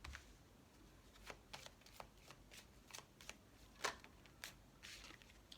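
Tarot cards are shuffled and drawn by hand, giving quiet, close, papery riffles and snaps in irregular bursts with no voice over them.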